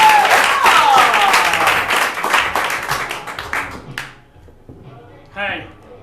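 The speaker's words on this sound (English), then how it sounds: "Let's give a round of applause." An audience at a comedy showcase bursts into dense clapping that tapers off over several seconds, leaving scattered claps and a brief voice near the end.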